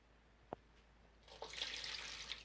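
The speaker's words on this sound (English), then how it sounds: "So we're going to be pouring the cup of water in," A cup of water is poured into a roasting pan of roast beef with garlic and onions, a soft splashing trickle starting after a single faint tap, quiet and close.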